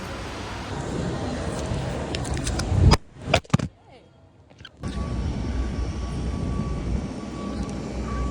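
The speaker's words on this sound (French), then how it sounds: "Un autre avion! Yay!" Steady airplane cabin engine drone broken midway by a few sharp bumps and a brief quiet gap, then the constant roar returns and continues.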